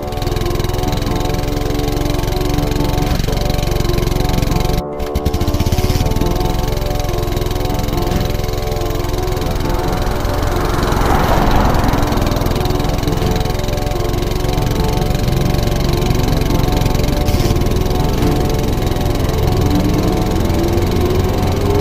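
Animated motorbike engine effect on a busy highway at night: a steady mid-pitched idling drone that runs throughout, with one brief sharp click near five seconds and a faint rising whoosh midway, no voices.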